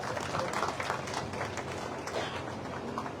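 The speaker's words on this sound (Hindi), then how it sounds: "जोरदार तालियों से स्वागत है।" A crowd claps in loud, sustained applause to welcome a guest at an office opening in Pehowa, a dense patter of many hands with no break.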